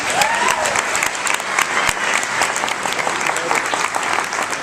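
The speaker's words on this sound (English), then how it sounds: "Let's give him a round of applause." Audience applause for a featured student author at an evening author event: a steady, dense wash of clapping from a sizable crowd, close and fairly loud throughout.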